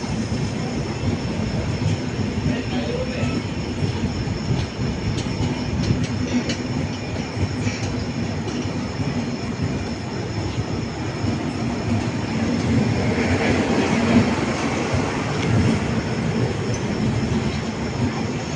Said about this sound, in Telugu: ప్లాట్ఫామ్ నెంబర్ 1 పైకి వస్తున్నటువంటి Huzur Sahib Nanded to Tirupati via Karimnagar super fast express